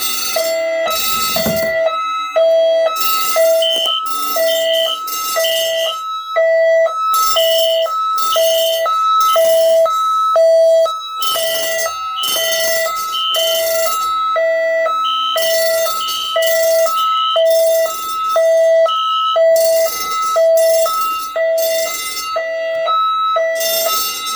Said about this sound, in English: Oh, it's slower than automatic alarm.